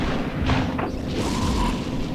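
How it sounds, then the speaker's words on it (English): A spaceship, a Mauler, blown apart in EVE Echoes, heard as a muffled rumbling boom rolling over a steady game drone with a faint tonal whine, no speech. "And the Mauler has been destroyed."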